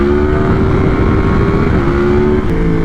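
A Yamaha MT-10 motorcycle engine roars loud and close, held at high revs throughout with a steady, slightly wavering pitch as the rider pulls a wheelie in second gear.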